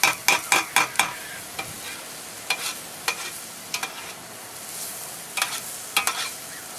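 Paella ingredients frying in a pan, with a constant sizzle broken by quick bursts of scraping and stirring, a rapid cluster of strokes at the start and scattered ones later, close up with no talking.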